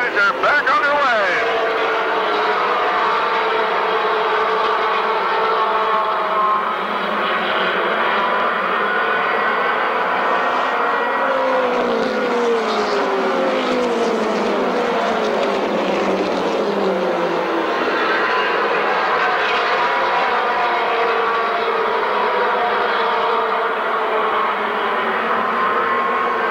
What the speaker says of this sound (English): The green flag down. The Outlaw Modifieds are back underway.